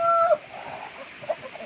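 Chickens and a rooster inside a barn converted into a chicken habitat, heard as one clear, loud crow-like call at the start followed by softer clucking and low murmuring nearby.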